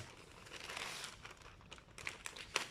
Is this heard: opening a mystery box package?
yes